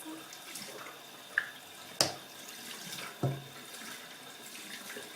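Tap water running at a bathroom sink while the face is rinsed, a soft steady trickle close by, broken by a few sharp splashes and knocks.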